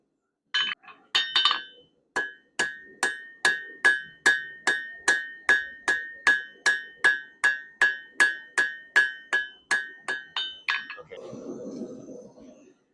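A blacksmith's hammer strikes hot steel on an anvil, knocking down corners into an octagonal taper, in a steady, evenly spaced rhythm, about twenty ringing blows up close, with a short rasp at the end.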